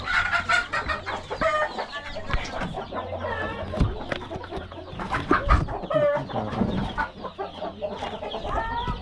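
Chickens cluck repeatedly nearby, with a rooster crowing partway through among busy farmyard noise.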